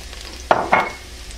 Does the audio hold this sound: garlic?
yes